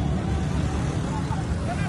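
Convoy of cars and motorcycles heading toward a hockey ground in Quetta, a steady dense rumble of passing engines, fairly close, with a voice talking over it.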